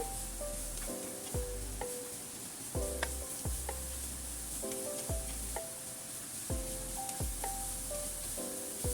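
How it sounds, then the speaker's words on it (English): Radish sticks and dried bean curd are stir-fried in a pan, a steady sizzle broken by regular, rhythmic scraping and knocking strokes of a spatula about every second, close and moderately loud. "add in 1/4 teaspoon of salt. Stir fry again. Stir fry."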